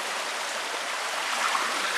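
Jones Brook flows through a 1941 concrete box culvert under Route 15 in Wolcott, Vermont, a steady broadband rushing of water that echoes evenly and continuously nearby, with no voices.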